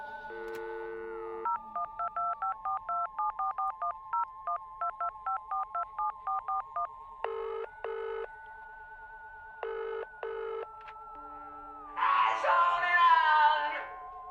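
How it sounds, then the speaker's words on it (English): Phone booth dialing tones in the Kid A Mnesia game, a long rapid sequence of clean electronic keypad beeps over a steady tone, then a few longer paired tones and a burst of distorted, wavering sound at the end. "I'm gonna call the Doctor Who"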